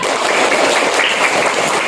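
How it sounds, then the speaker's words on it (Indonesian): A school class clapping hands together in a dense, continuous burst of applause, loud and close, with no voices over it. "Tepuk satu, tepuk dua, tepuk tiga, tepuk banyak"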